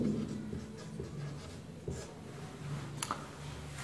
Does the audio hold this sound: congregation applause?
no